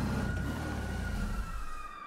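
Police car siren during a chase, a steady wailing tone held fairly close over engine and road rumble, fading slightly toward the end.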